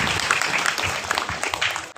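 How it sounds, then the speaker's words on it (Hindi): Congregation clapping at a Christian sermon, a dense, steady wash of many hands held close for two seconds before dropping off briefly at the end. "तब ताली बजा देगा।"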